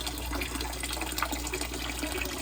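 Water steadily pouring and splashing as an all-male fish isolation tank is drained, a continuous close trickling wash with no voices.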